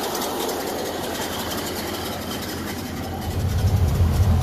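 A 1930 Ford Model A engine, worn out and smoking after sitting for 40 years, runs rough with a steady uneven chugging throb that swells louder and heavier near the end.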